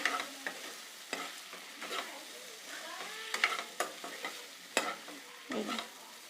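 Fried ingredients mixed in a pan for a bitter gourd and Nutella side dish, a spatula scraping and clacking against the metal in irregular strokes over a soft, steady sizzle, close and fairly quiet.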